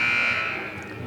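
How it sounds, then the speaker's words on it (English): A basketball game buzzer sounds at a girls varsity high school game to end a timeout, a steady electronic tone held for about a second over gym crowd noise and murmuring voices. "there's the buzzer to call everyone back out onto the court"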